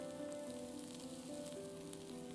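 Baby corn and mushrooms fry in a pan, giving a soft, steady, close sizzle that crackles evenly throughout with no voices.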